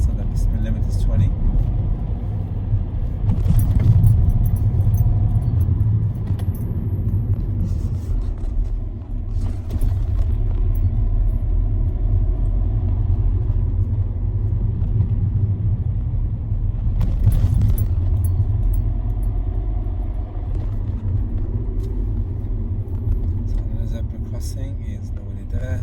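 A car drives in second gear over speed humps on a 20 mph road, with a steady low engine and road rumble throughout and occasional soft bumps. Someone talks over the engine noise.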